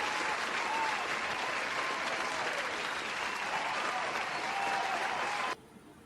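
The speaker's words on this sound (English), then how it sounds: "Give Ed Jones a round of applause, ladies and gentlemen." An audience gives a steady, dense round of applause that holds at full strength for about five seconds, then stops abruptly.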